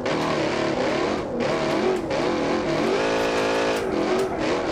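A V8 truck engine in BeamNG.Drive revs steadily and loudly up close, holding a droning, wavering tone with small pitch rises and dips and no pauses throughout.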